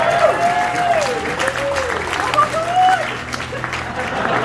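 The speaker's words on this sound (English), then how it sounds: "I will, then I'll expect a big round of applause." Audience applause at a comedy magic show, steady clapping from a crowd heard throughout, with a voice speaking over it.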